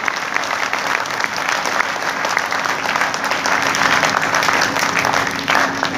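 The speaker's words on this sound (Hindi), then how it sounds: "दोनों हाथ ऊपर उठाइए और तालियों की गड़गड़ाहट में तब्दील करके बताइए" A crowd at an Agrasen Jayanti poetry gathering gives sustained, loud applause, a dense unbroken roar of clapping that holds steady for the whole stretch.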